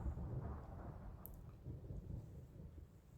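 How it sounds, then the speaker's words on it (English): Thunder rumbles deep and continuously through a rainy DayZ game world. Steady rain sounds sit beneath it and there is no speech. "there's the thunder"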